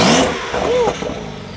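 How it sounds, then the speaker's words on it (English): A 2021 Porsche 992 Turbo S engine revs close by with a quick rising blip that peaks early and then falls away, with a smaller second rise as the revs settle back down. "Give it a little rev again, Sean."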